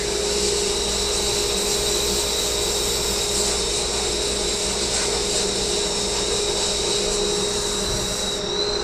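A Harbor Freight blast cabinet and its dust collector run together as a loud, steady roar with a constant high hiss of blasting media, holding unbroken at close range the whole time.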